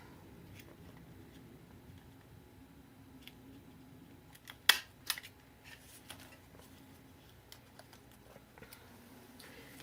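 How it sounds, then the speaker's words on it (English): A couple of sharp, quick snips cutting through wire, close and clear against a faint rustling background. "I will cut the excess wires off."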